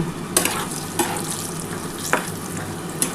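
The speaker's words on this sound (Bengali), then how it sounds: "দিয়ে বড়িগুলো ভেজে তুলে নেব" Bori lentil dumplings fry in hot salted oil with a steady close sizzle, broken by a few sharp clinks of a utensil against the pan.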